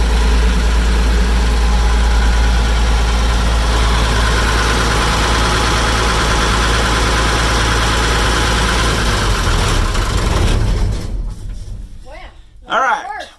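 A Massey Ferguson 550 tractor engine, suspected of a fuel system fault, runs with a loud, steady low idle and heavy vibration. Near the end it cuts out, leaving brief scattered noises.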